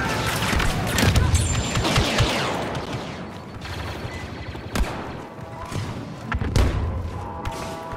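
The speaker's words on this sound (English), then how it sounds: "Grenade deployed!" Grenade blast amid the Endor Galactic Assault battle in Star Wars Battlefront 2, heavy thuds and booms mixed into continuous gunfire and fusillades, loud and close, with game voices calling out over the combat.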